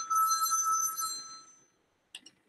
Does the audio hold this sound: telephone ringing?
yes